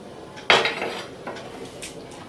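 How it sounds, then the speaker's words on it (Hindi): A cooking pan tilted to swirl oil around it gives one sharp metallic clank, then softer scrapes and knocks, close up and brief. "पहले तेल को ऐसे घुमा दूंगी।"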